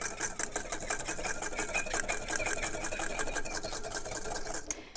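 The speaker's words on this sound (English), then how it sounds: "I'm going to go ahead and get the rest of my olive oil in there. There we go. And I'm just going to give it a really good whisk." Olive oil being whisked into a salad dressing in a bowl, a fast, steady rhythmic clatter of the whisk against the bowl continuing for several seconds, close and fairly loud with no talk.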